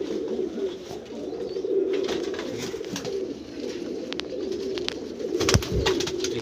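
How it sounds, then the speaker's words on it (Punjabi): A Teddy pigeon keeps up a soft, rolling coo nearby, steady and unbroken, with a few sharp clicks or wing-like rustles toward the end and nobody speaking. "ਇੱਕ ਆਹ ਟੈਡੀ ਕਬੂਤਰ ਹੈ।"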